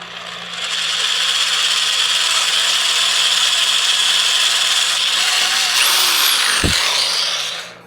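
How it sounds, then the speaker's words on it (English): A steady high-pitched power drill whine drilling a pilot hole in a plastic Silverado bezel runs continuously for several seconds, close and loud, then winds down with a brief low thump near the end. "I'm just going to drill a small pilot hole first"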